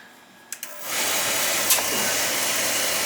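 An oil boiler burner, just bled after running out of oil, clicks twice and then fires up into a loud, steady roaring rush that continues to the end.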